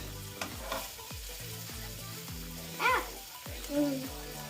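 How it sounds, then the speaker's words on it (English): Garlic sizzling in a pan for a Lebanese braised beef and bean stew, a bubbling fry heard under scraping and stirring, with a couple of brief squeaky tones cutting in. "We're going to put the garlic in now."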